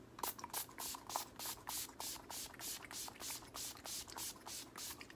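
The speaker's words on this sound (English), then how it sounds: "I'm going to go ahead and spray my face" A rapid series of short, soft spray bursts from a mist bottle, about a dozen quick pumps in an even rhythm, close and fairly quiet.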